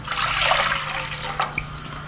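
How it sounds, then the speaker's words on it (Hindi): Water pours into a deep cooking pot for tamarind sour water for gol gappay, a steady splashing rush that holds for about two seconds with a few brief drips and clinks near the end. "अब सबसे पहले जो है हम इस डेचकी में पानी डालेंगे"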